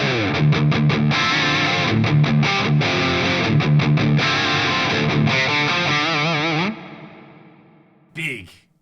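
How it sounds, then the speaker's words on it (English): Distorted electric guitar chords and riffs through an Axe-Fx III's large deep hall reverb, ringing out into a long, spacious decaying tail, followed by a brief final strum. "let's add a reverb block in here because hall reverb for kind of 80s tones, it's pretty fun"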